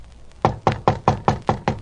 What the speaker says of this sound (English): knocked on the door of flat number 6